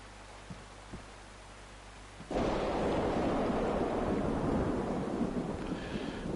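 Rain in the video game DayZ. A quiet ambient bed with a couple of faint ticks gives way to a sudden loud, steady hiss of downpour that continues to the end.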